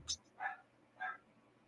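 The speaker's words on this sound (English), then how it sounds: "It's the dog that's echoing." A dog barks three short times at a moderate distance, the yips evenly spaced and somewhat muffled, with faint speech-like sound in the background.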